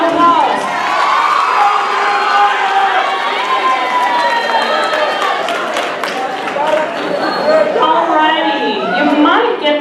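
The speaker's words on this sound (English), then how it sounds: "Give them a round of applause." Audience at a house meeting claps and cheers for participants, a loud, steady wash of clapping mixed with shouts and excited voices running throughout.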